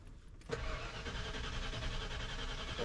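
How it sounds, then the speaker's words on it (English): A 1995 Ford F-150 engine with no spark cranks without catching, starter turning over steadily after a short quiet moment, close and continuous, with no voices. "And all it does is it cranks."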